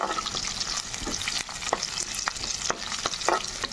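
Carrot pieces sizzle steadily in a hot pan, with sharp scrapes of a spoon recurring every half second or so as they are stirred; close and alone, with no talking.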